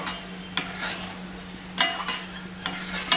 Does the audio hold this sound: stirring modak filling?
yes